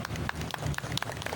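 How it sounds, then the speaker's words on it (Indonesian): An audience claps together for orphan children at a Ramadan charity gathering, a brief burst of scattered, moderately loud applause with some voices mixed in. "tepuk tangan dulu untuk sahabat yatim."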